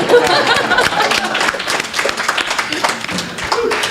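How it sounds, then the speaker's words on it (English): Church congregation applauding during a Sunday celebration service: steady, close, full-room clapping throughout, with a few voices and chuckles mixed in. "another round of applause for our speaker today"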